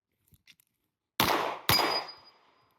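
Two sharp gunshots from handgun shooting practice, close and loud, about half a second apart, each followed by a short decaying echo after a few faint clicks.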